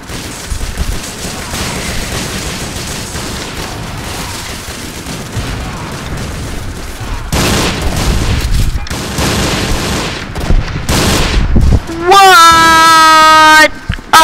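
Gunfire in the first-person shooter Uberstrike comes as dense bursts and booms mixed with game music and effects, loud and chaotic, ending in a rising tonal sound effect, with a voice talking over parts.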